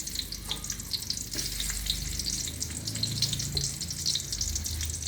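Onions fry in a pan with a constant close sizzle, dotted with small crackles and faint stirring, no voices.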